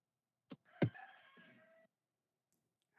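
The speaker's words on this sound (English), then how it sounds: "Why is there a chicken in the background?" A rooster crows once in the background, a clear drawn-out cock-a-doodle-doo lasting about a second after a couple of sharp knocks, with quiet around it.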